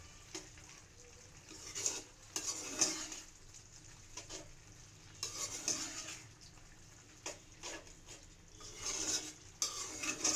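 Amaranth leaves cook in oil with turmeric and red chilli powder, a soft, faint sizzle broken by intermittent bursts of spoon-against-pan stirring and scraping.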